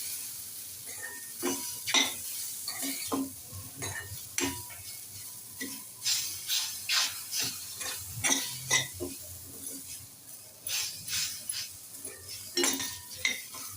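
Mango sheera with mango pieces sautéed in a pan: a soft sizzle under repeated rhythmic scraping strokes of a spoon, with occasional metallic clinks against the pan, close and clear, and no talking.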